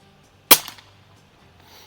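A Notos PCP air rifle fitted with a C88 Machining FX barrel kit fires a single pellet: one sharp, close crack followed by near silence.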